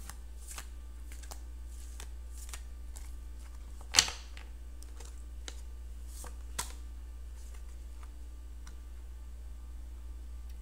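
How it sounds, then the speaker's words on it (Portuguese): Tarot cards riffle and interleave in a quiet room, a soft steady patter of card edges with light ticking flicks, one sharper snap partway through and a smaller one later, no voices. "Escute o barulhinho das cartas entrelaçando uma a outra"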